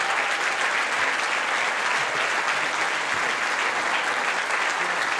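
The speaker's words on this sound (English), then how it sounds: "you guys please stand so we can give them a applause too." An audience in a school gym gives sustained, even applause that fills the whole stretch, dense and loud with no pauses.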